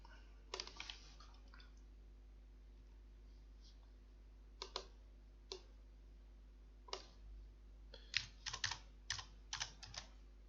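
Typing on a computer keyboard while planning a project in ProjectLibre software: sparse, quiet key clicks in short bursts, a few isolated taps early, then a quicker cluster of keystrokes toward the end over a low steady hum.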